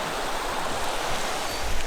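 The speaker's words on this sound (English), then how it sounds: "We got the creek." A creek flowing beside a campground in the high country near Lake Dartmouth, a steady broadband rush of moving water that stays even and fairly close throughout, with no voices over it.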